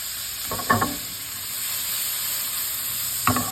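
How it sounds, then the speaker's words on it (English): Shrimp sizzling in a hot pan as they are flipped, a steady loud frying hiss throughout with two brief clattering stirs of the shrimp, one early and one near the end. "We're going to go ahead and flip these shrimp nice and fast because we want to go ahead and ensure we don't overcook them."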